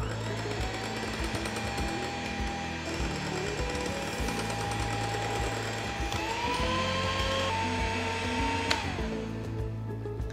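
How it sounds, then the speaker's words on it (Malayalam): An electric mixer whirs loudly and continuously while beating egg whites with sugar until stiff, its motor pitch shifting a few times as the speed changes, close up with no voices. "നല്ല സ്റ്റിഫായിട്ട് മുട്ടയുടെ വൈറ്റ് ബീറ്റ് ചെയ്തു."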